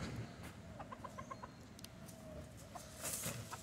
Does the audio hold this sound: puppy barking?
no